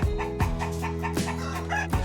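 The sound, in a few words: free-range chickens clucking on a farm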